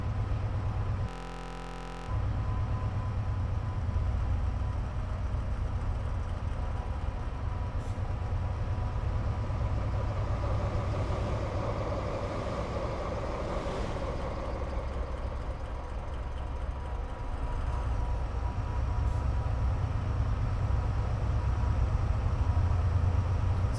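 In Train Simulator 2016, a Class 70 Freightliner freight train rumbles past steadily on a rainy South Wales coastal line, with a continuous low engine drone and rolling rail noise that holds level throughout, no voices.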